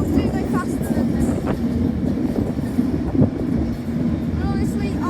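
An Avanti train to Euston pulls out of Glasgow Central, its rolling rumble and squealing wheels steady and fairly close, with a voice talking over the passing carriages.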